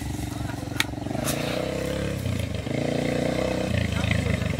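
A motorcycle engine idles and rumbles nearby outdoors while a learner gets ready to ride, a steady low drone that keeps going under people talking.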